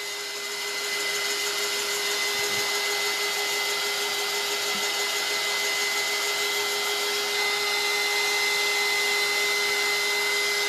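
Heat tool blowing steadily to dry chalk paste on a craft project, a continuous close whirring hiss with a steady tonal whine, alone without talk.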